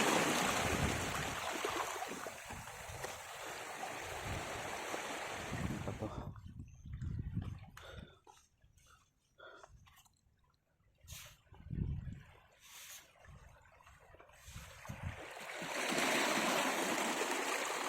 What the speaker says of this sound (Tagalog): Ganda pakinggan yung agos na ang tubig na bumabangga sa mga bato.